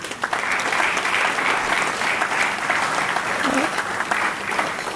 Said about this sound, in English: let me invite you to once again applaud the makers of this film.